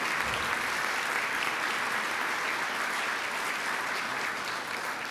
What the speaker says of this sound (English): Another round of applause for Sir Roger Grine